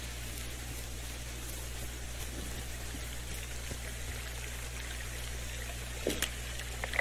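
Creek water at Cottonwood Creek in the game Firewatch flows in a steady, soft trickling wash with faint drip-like detail, holding level throughout and ending with a couple of slightly louder splashy accents.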